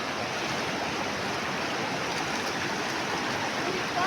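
Steady broadband rush of a large river flowing, loud and continuous throughout with no voices.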